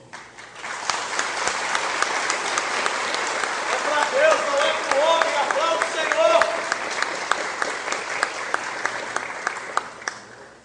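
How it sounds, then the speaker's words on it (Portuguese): A church congregation applauds the Lord during a Portuguese-language service, sustained loud clapping with voices and a tonal sound mixed in, the claps thinning into distinct single hits toward the end. "aplauda o Senhor"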